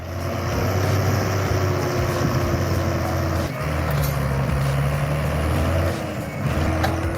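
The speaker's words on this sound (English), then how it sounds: "The Ursus 1614, equipped with a turbocharged 6-cylinder diesel engine pushing 155 horsepower, is battling the stubborn mud." The turbocharged 6-cylinder diesel of an Ursus 1614 tractor roars steadily under heavy load while hauling soaked straw trailers through deep field mud, a loud, continuous engine drone that dips briefly and pulls back up, with no talk.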